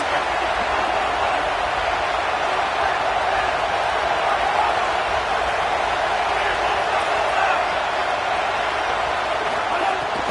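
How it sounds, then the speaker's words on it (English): A home stadium crowd roars during a football game, trying to help their defense; the dense, loud wall of cheering holds steady for the whole stretch without a break. "Listen to this crowd just shaking the girders of this place, trying to help their defense."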